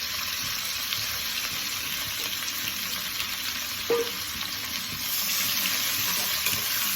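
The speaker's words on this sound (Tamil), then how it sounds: "ஒரு 3 பெரிய வெங்காயம் நறுக்கியிருக்கேன், அது அப்படியே மெல்லிசாக நறுக்கியிருக்கேன், அதையும் போட்டுக்கலாம்." Three large, thinly sliced onions frying in a pan for poori potato masala give a steady hiss and sizzle, with a single soft clink partway through.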